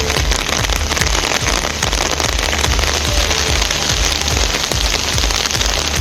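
Heavy rain pours down steadily in a sudden downpour over farmland areas in Tamil Nadu, a loud, dense hiss with spattering drops and no voices.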